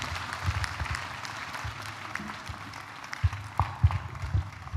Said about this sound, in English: I think we can give him a better round of applause.